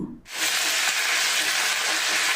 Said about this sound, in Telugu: అల్లం కొద్దిగా వేగాక ఆరు ఎండుమిర్చిని వేసుకొని ఒకసారి అంతా కలుపుకొని రెండు రెమ్మల కరేపాకు వేసుకున్నాను